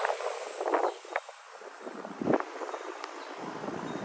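Gusty wind blows outdoors on a patio where party bar decor is being set up, a steady broadband rush with louder buffeting gusts rattling and knocking things about, no voices heard.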